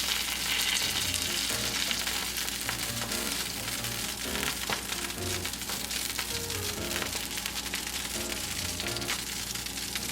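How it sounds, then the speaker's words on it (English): Char siu pork sizzles loudly and steadily after being flipped in a hot pan, a dense continuous frying hiss with faint crackles throughout and no talking. "Flip it on the other side and give it another go."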